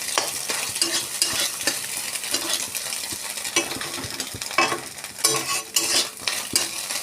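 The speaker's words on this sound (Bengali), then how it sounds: "আবারও ভালো করে মিশিয়ে নেবো যতক্ষণ ডিমটা ভাজা ভাজা হচ্ছে এইভাবে নাড়িয়ে নেব" Egg frying with turmeric in a pan, stirred steadily: a continuous sizzle under repeated scraping and clinking strokes of a utensil against the pan, close and fairly loud throughout.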